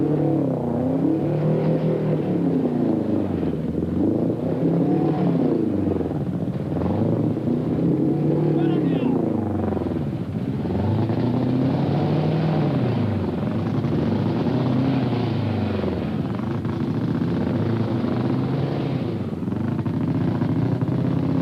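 A Vauxhall Chevette rally car in the 1980 Motogard Rally in New Zealand drives through water, its engine droning and revving in long rising and falling sweeps over a constant wash of noise, moderately distant, with no voices.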